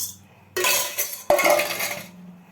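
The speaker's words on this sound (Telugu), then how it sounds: "గరిటతో శుభ్రం కలిపేసుకుందాం" A ladle mixing red chillies, tamarind and salt in a metal vessel: two loud, close bursts of scraping and clattering against the pot, separated by a short pause and then fading out.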